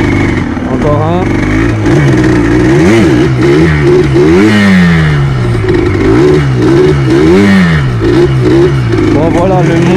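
Quad bike engine revving hard and rising and falling in pitch during wheelie practice on a tarmac cross track, loud and close throughout, with the rider talking over it.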